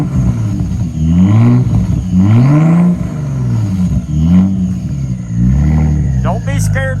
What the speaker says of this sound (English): Got the whole exhaust in there. My daughter's gonna rev it up.